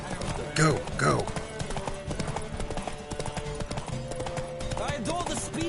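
Horses gallop in a race in The Witcher 3, with a steady rhythmic clip-clop of hooves running throughout. Voices talk over the pounding hooves.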